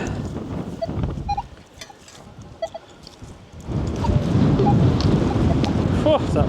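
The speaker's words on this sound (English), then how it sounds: "Oh, that wind, sorry guys." Strong gusty wind buffets a microphone outdoors on open harvest fields, a low rumbling roar that swells louder and steadier in the second half.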